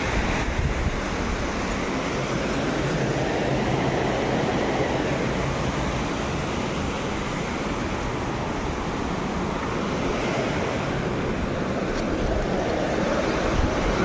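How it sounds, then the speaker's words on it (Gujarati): Water rushes into a drain on the Narmada canal as a steady, broadband roar that stays constant throughout, with no talking. "નાળામાં પાણી જાય અંદર"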